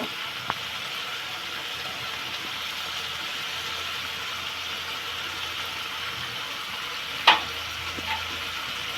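Bengali fish curry simmering in a pan, a steady soft bubbling sizzle heard alone, with a single brief clink near the end.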